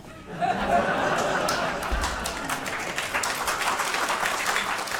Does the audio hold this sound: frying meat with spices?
no